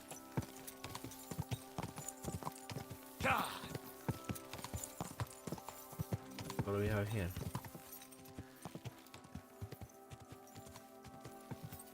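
Horse hooves clop steadily on hard ground in a video game, a close rhythmic series of hoofbeats running throughout, with a brief whinny and someone speaking partway through.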